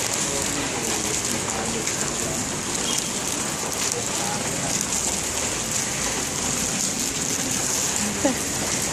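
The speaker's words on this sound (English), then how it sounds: "walking in the rain." Steady rain falling and pattering on surfaces in Chinatown, dense and continuous, fairly loud and close, with no voices.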